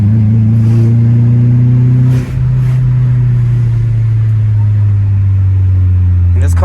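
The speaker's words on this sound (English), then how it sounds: "And this car sounds so flippin' good." A BMW E30 engine rumbles loudly and close, a steady low drone that dips briefly and settles into a slightly different pitch while driving.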